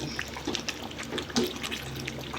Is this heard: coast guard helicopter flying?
no